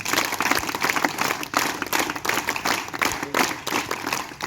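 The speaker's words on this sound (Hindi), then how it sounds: "इन सभी बच्चों के लिए जोरदार तालियां।" Children at a school World Environment Day celebration get applause, dense steady clapping from a crowd sustained throughout with sharper individual claps standing out.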